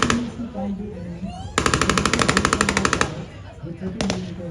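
Military 30mm cannon and 7.62mm P50 gun firing during an Indian Army demonstration, a rapid loud burst of automatic fire lasting about a second and a half, then a short second burst, over background narration and battlefield noise.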